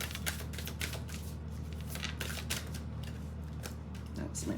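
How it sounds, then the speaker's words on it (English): Cards being shuffled close by, a rapid crisp riffle of snapping, fluttering clicks continuing steadily for several seconds over a low background hum. "That was my shuffling."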